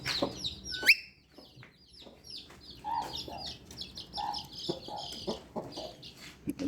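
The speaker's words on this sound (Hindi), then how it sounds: "ये मुर्गी है" Backyard chickens cluck in short, scattered bursts close by, mixed with sharp chirps from other birds such as a parrot and pigeons, against a quiet background with no talking.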